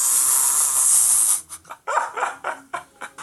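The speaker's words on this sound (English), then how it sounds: "There's the dog." A dog barks in a quick series of short, sharp yaps and yips up close, following a few seconds of steady hiss.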